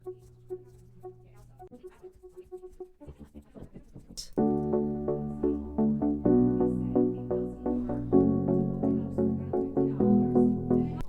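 Chords from a synth patch built in Serum play in a bouncy dotted-eighth rhythm, entering full and loud after a sparse, quieter opening, repeating pulses under no talk.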